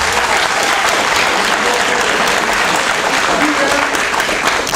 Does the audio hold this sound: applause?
yes